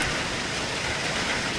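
Heavy rain pours steadily during a severe storm at a rural Thai home, a dense continuous hiss close by with no talk over it.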